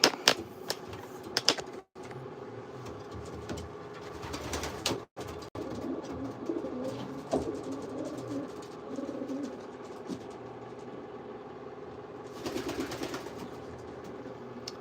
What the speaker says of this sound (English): So this is a Josh Stone bred pigeon, imported from Belgium.